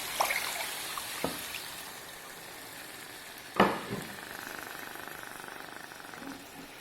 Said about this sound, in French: je vais rajouter cette eau